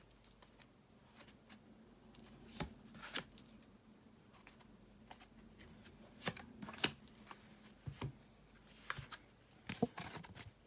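Tarot cards being shuffled by hand during a reading, soft papery riffles and scattered card snaps at close range, fairly quiet, with no speech.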